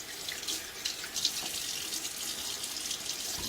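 Cold hard water runs steadily from a bathroom tap into a sink before a wet shave, a continuous close hiss and splash with no talk.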